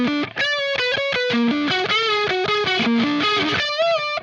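Loud distorted electric guitar solo lick from Incubus's "Rogues", fast picked notes stepping up and down with sustained held tones, played alone without talk.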